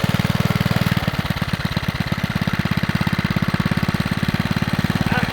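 Small engine of a vintage Bonanza mini bike idling close by, a steady, rapid low putter that loosens into an uneven, pulsing chug after the first second.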